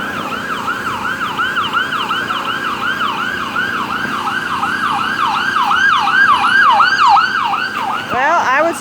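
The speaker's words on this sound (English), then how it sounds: "And ambulances, I'll tell you, there comes one down there." An ambulance siren wails nearby in a Norristown street, rising and falling in a steady repeating cycle, growing louder as it passes, with traffic rumble beneath.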